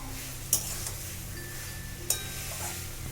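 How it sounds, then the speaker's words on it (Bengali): A spatula stirs fried cauliflower and potato pieces in a pan with faint sizzling, the scrapes landing as a few separate sharp strokes over a low frying hiss. "এবার এর মধ্যে আমি দিয়ে দেবো ভেজে রাখা ফুলকপি আর আলুটা, দিয়ে এটাকে ভালো করে কষাবো"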